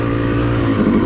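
A dirt bike engine running steadily on a groomed OHV trail, Wambaw Cycle Trail, with a continuous loud motor drone and slight pitch shifts throughout, no voices.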